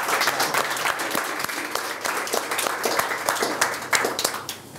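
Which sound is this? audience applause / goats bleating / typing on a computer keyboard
audience applause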